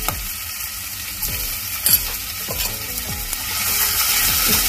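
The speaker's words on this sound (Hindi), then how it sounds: "इसको अच्छे से हम तड़के को भून लेंगे।" Crushed ginger and garlic sizzle in hot oil as a tempering, a steady close crackle with the soft scrape of a spoon stirring through it every half second or so.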